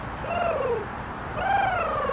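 A pigeon coos twice, each a soft, drawn-out falling call, close by over a steady outdoor noise bed with no voices.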